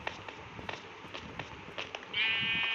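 Sheep-like bleats from a goat in a survival video game, heard as brief repeated calls over a busy background of game noise and footsteps, with a steady higher tone entering near the end.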